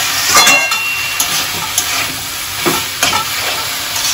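Banana flower stir-fried in a pan for a vegetarian Bengali mocha ghonto, a steady close sizzle with repeated scraping stir strokes and clinks, no talk.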